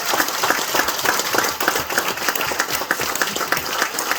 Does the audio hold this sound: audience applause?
yes